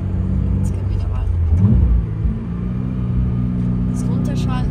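A Toyota GR86 with its 2.4-litre boxer engine hums steadily up close, briefly rising in revs before settling again, while someone talks over it.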